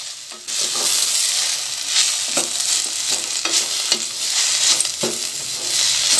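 Onions, coriander and mint fry loudly in a pan for a mixed-vegetable chutney, a strong close sizzle broken by repeated scraping strokes as the mixture is stirred.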